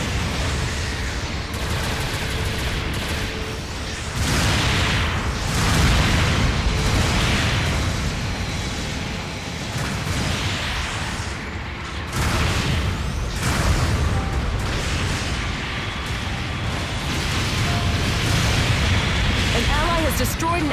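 A mobile suit being destroyed in Gundam Battle Operation 2, heavy booming explosions and bursts of weapon fire rolling through a chaotic battle, loud and repeated, with voices talking over the din.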